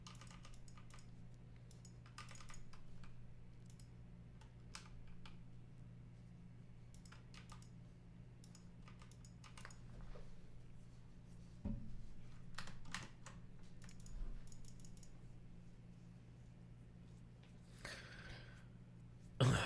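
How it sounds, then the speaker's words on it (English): Light clicking of a computer keyboard as someone types a chat message, quick irregular bursts of keystrokes with pauses between, fairly faint and close. "I'm typing in chat."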